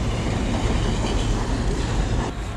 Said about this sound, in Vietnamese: Đây là những chiếc tàu điện từ thời Liên Xô.